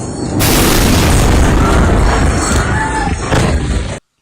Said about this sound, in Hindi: इतने में ही वहां एक और बड़ा विस्फोट होता है